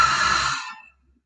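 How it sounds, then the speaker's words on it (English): A deep open-mouth cleansing exhale at the close of a yoga practice, a single breathy sigh that starts loud and close, then fades out to silence within about a second. "Open mouth, exhale."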